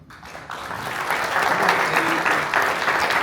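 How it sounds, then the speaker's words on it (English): Audience at a New Mexico soil health and soil carbon conference applauds the NMSU and NMDA teams, a dense sustained clapping that builds from a soft start and stays steady and loud throughout. "Let's give you guys a round of applause"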